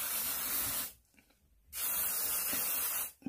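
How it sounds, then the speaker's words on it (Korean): Hair spray from an aerosol can hisses onto a sea stone in two loud, close bursts, each about a second long, separated by a short pause, with no talking. "제가 스프레이를 한번 뿌려보겠습니다."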